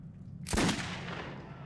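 A single close gunshot rings out in the video game Metro 2033, a sharp loud crack followed by a long fading tail, alone with no talking.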